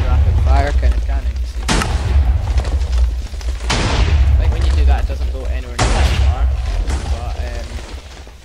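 TNT cannons fire and explode in Minecraft, sending out loud, booming blasts that repeat in rapid succession with rumbling tails between them.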